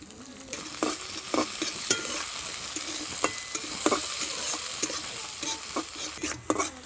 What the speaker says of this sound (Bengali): কেটে রাখা পেঁয়াজ কলিগুলো দিয়ে দিচ্ছি।